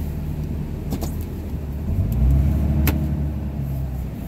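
A Ram 2500 pickup truck plowing snow, heard from inside the cab: a steady close engine rumble that swells briefly mid-clip as it pushes, with a couple of faint clanks over the drone.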